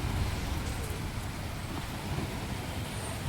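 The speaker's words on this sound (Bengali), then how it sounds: "প্রচণ্ড জোরে বাইরে বৃষ্টি পড়ছে" Heavy morning rain pours outdoors as a steady, dense hiss with a low rumble beneath, constant and unbroken throughout, with no speech.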